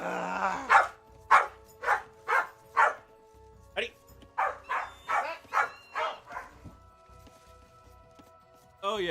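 A Corgi barks close by in two quick runs: about five sharp barks, a brief pause, then roughly seven more, before a final bark at the end.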